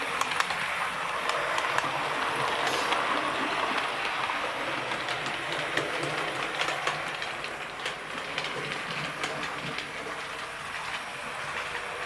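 A Class 57 locomotive runs on a model train set, giving a soft, continuous rolling rumble with faint rhythmic clicking from the track, steady and fairly quiet throughout.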